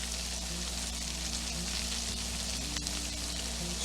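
Swedish meatballs fry in a pan with a steady, soft sizzle and faint crackling pops, quiet and continuous, with no voices.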